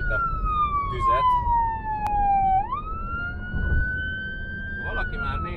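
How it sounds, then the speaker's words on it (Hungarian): A siren on an emergency vehicle, a Kia Sportage, wails loud and close with a long descending then rising tone, over road and engine rumble. "sokkal hangosabb a sziréna, mint amúgy szokott lenni"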